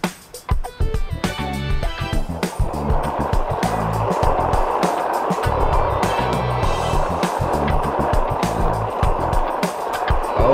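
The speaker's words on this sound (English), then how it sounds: "we're riding a skateboard" Skateboard wheels rolling in the video game Turbo Dismount, a steady loud grinding rumble with clattering bumps near the start, continuous and with no voices over it.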